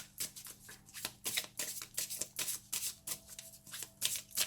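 Tarot cards being shuffled by hand, a steady run of crisp riffling flutters and soft slaps repeating about twice a second, close and fairly quiet with no talking.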